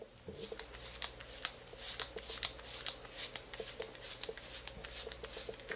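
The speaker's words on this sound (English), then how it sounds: "I'm gonna let you guys hear, the hair is still cutting." Gillette SkinGuard razor shaving stubble on a bald head, heard up close as a steady run of short, crisp scraping strokes in a quick repeating rhythm, with no talking.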